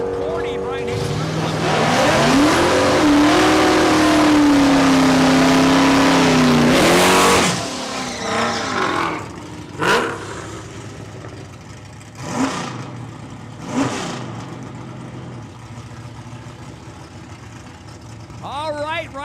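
Drag racing cars launching down the strip at Saskatchewan International Raceway, loud rising engine roar for several seconds, then quieter bursts of revving and passing cars, with an announcer talking throughout.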